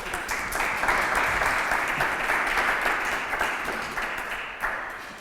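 A conference audience applauds a speaker for about five seconds in dense, sustained clapping from a crowd, steady throughout and easing slightly toward the end.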